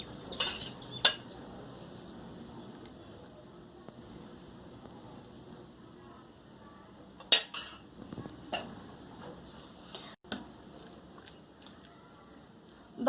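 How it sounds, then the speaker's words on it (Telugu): A spoon works through yogurt in a bowl for a pickle, giving soft scraping and stirring with a few sharp clinks of metal against the dish, quiet and spaced out. "ఇప్పుడు దీనికి సరిపడా పెరుగు వేసి కలుపుకుందామండి."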